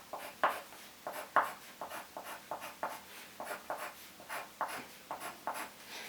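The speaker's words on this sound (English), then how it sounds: "So then you draw in the horizontal lines." A pencil draws horizontal lines on paper in a sketchbook, making close, rhythmic scratchy strokes, about a dozen short swipes in an even, repeated pattern.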